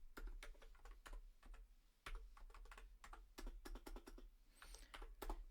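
A computer keyboard is typed on steadily, with rapid clicking keystrokes in uneven bursts and brief pauses, close and clear against a faint background hum.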